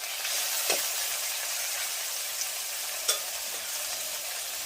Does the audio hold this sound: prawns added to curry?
yes